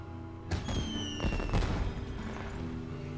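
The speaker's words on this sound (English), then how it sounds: "Someone setting off fireworks?" Fireworks go off in the video game Monster Hunter Online, with a burst of crackling pops and whistling streaks over a steady background hum.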